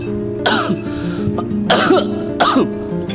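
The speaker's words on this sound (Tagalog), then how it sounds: "Kahapon ka pa ubo ng ubo." Three harsh coughs, each a short burst spaced about a second apart, close and loud over a faint steady background hum.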